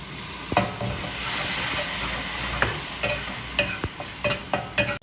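Whole spices roasting and being stirred in hot ghee for an aloo palak methi dish, a steady close sizzle broken by sharp scraping clicks of a spoon against the pan, growing busier toward the end.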